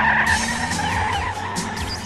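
A car skids during a chase, loud tire squeals sliding up and down in pitch over a rumbling engine, with several sharp screeches in quick succession.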